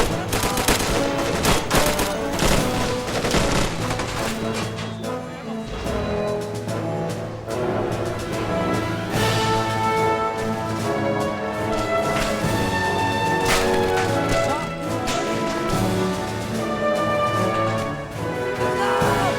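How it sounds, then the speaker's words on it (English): Handmade mortars and gunfire in a toy war animation, a loud dense stream of repeated shots and bursts that carries on without pause for nearly twenty seconds. "Comes the handmade mortars."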